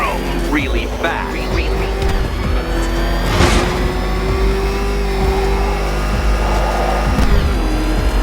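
Batmobile engine in Batman Arkham Knight revving steadily with a continuous mid-pitched roar and a brief surge near the middle, under game music and talking voices.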